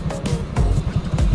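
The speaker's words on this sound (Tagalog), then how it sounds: "May motor sa likod lang." A motorcycle rides behind on the way to a beach resort in Pandan, giving a close, throbbing engine rumble with pulsing surges over a short stretch.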